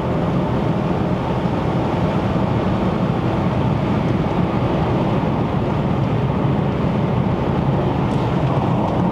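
A 2015 F16 BMW X6 40d xDrive with a 3.0-litre twin-turbo inline-six diesel, fitted with a leaking charge pipe, drives uphill. Its engine and road noise form a steady, broadband drone that holds without a break and comes with some wind rush.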